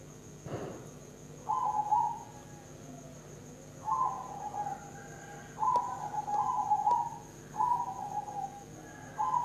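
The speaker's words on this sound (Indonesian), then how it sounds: "Kalau Bapak Ibu sedang mendengarkan backsound dari siaran kami, ada suara perkutut" A zebra dove coos in repeated soft, hollow phrases, about five calls spaced a second or two apart, fairly close and gentle over a quiet background hum.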